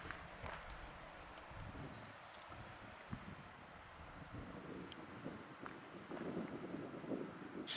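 Wind gusts buffet the microphone at a coastal site at the most northerly point of the NC500 route in Scotland. The rumble is low and steady, with surges and a stronger blast near the end.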